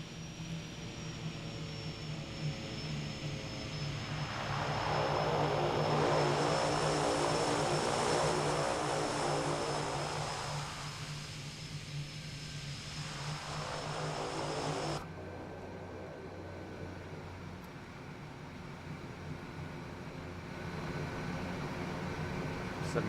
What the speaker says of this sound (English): I very much love flying this aircraft